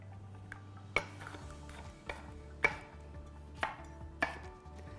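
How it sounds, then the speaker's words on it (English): A knife slices bell peppers into thin strips on a cutting board, six or seven crisp, separate chops at uneven intervals against a quiet background with a low steady hum. "I'm just gonna go through and cut them into little strips"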